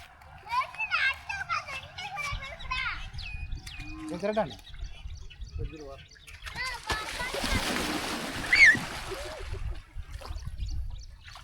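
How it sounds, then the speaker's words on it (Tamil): People bathing in a village canal splash water loudly and continuously while children shout and chatter nearby, with birds chirping in the open-air background. "இப்போ வந்து பாத்தீங்கன்னா நல்ல ஒரு குளிப்பு குளிக்க போறோம்."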